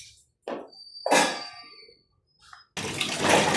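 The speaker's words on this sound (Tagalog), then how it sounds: "Diretso hugas na yan, banlaw. Tapos, bibigyan na natin ng malinis na tubig." Pet food bowls being washed and rinsed: sharp clanks and rings of the bowls between short splashes, then a steady gush of running water at the end. No one speaks.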